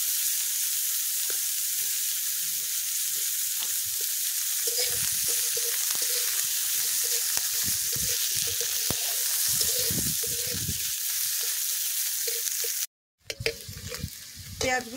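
Chopped onions frying in a pan over an outdoor fire on a windy day, for a fish curry with cauliflower: a steady hiss of sizzling oil, with soft stirring scrapes and clinks over it, then a brief cut and the sizzle returns.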